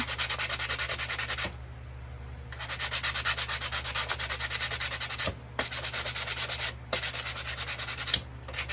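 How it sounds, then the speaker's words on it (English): Steady, gritty sanding strokes scraping back and forth, close and loud, in long passes broken by brief pauses. "So I want to give this a really good sanding."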